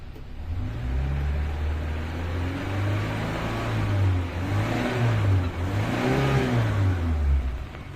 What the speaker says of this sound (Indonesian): Kita coba geber-geber sedikit ya guys.